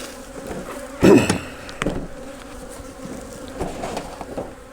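Honeybees buzz around a hive being split into smaller colonies, a soft continuous hum with a sharp wooden knock as equipment is set down and a few more faint bumps.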